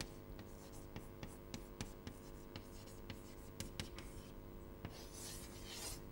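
Chalk or marker writing on a board during a lecture, a steady faint scratching broken by short taps and strokes, heard quietly with room hum and no talking.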